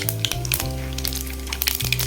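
Mustard seeds hitting hot oil in a frying pan, with cashews already frying, give a continuous close crackling sizzle with sharp pops, over a steady low hum.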